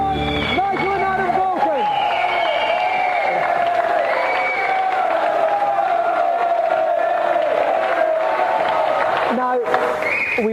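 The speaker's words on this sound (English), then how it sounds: "Have a round of applause, Nigel and Adam" A large studio audience cheers and shouts loudly at a video game TV show award, with applause mixed into a dense, continuous roar of voices that holds steady throughout.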